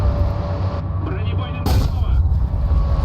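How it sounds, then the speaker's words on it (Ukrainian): A single tank cannon boom in War Thunder, mid-range in distance, cutting through a constant low engine rumble. "Позаду постріл."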